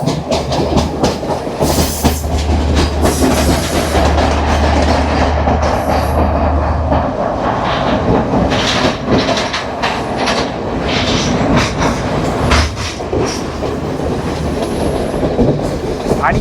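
A Yal Devi train in Sri Lanka rumbles loudly and continuously along the rails, with clattering wheels and occasional metallic squeals, heard from close by inside the carriage.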